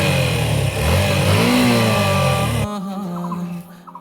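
A car engine revs loudly under heavy throttle, its pitch rising and falling for about two and a half seconds before it drops away to a quieter, fainter running sound.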